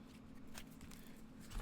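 Tarot cards shuffled by hand, a soft papery riffle and scattered flicks, faint and close, ending in a louder burst of card noise.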